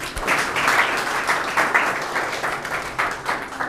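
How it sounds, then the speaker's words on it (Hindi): A school audience claps together in a brisk, continuous round of applause, fairly loud and close, with no talking over it for the few seconds it lasts. "सब लोग तालियां बजा दीजिए"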